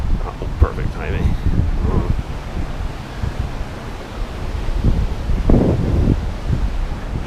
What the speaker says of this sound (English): It's a lot noisier here because the water is so fast. Sounds like the ocean.